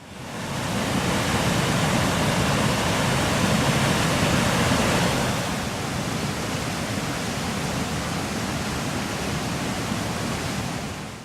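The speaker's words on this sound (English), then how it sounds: "a small waterfall on the River Couple, with the iconic Booklet of Moor Mountain as a backdrop" A small waterfall on a river in Glencoe rushes as a steady, dense broadband roar, loud and continuous throughout, easing only slightly partway through; no voices.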